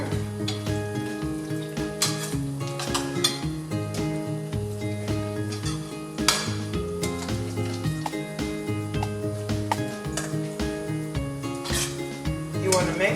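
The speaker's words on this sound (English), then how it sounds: "So I'm just gonna make sure I mix it thoroughly" Peppered goat meat being stirred in a coconut oil sauce, with a steady sizzle under repeated scraping and rubbing strokes of a utensil against the pan, rhythmic and close, over a tonal musical background.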